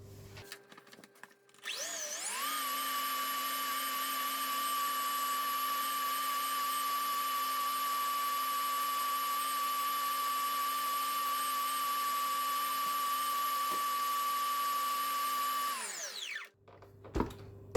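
Electric stand mixer beating birthday cake batter, spinning up to a steady high whine that holds for about fourteen seconds before winding down, with faint scraping sounds before and after.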